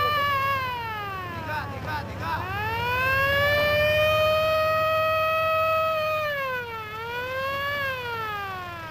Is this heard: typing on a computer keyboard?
no